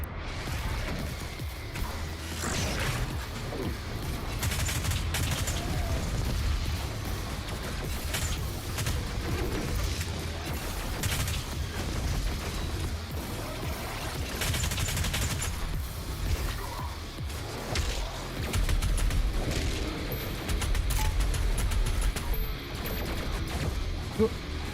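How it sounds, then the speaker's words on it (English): Grenade explosions and sustained gunfire fill a video game battle, with dense bursts of shots and booms rolling on continuously for about twenty-five seconds at moderate loudness. "Grenade. Another grenade."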